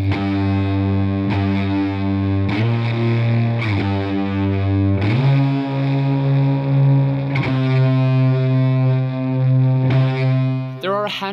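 Heavy, fuzzy distorted stoner rock electric guitar chords ringing low and thick, a slow riff with sustained bassy tones and occasional chord changes.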